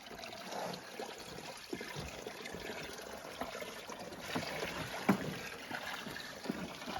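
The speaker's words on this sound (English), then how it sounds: "May as well just top up the water barrel as well" Water trickles and splashes steadily into a water barrel on an off-grid homestead, a continuous close pouring sound with small knocks and bumps, no talk.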